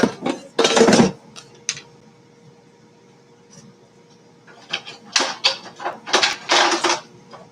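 Knife and fork scraping and clattering on a plate while an air-fried Mexican pizza is cut into quarters, in several loud sharp bursts with a quiet gap between them.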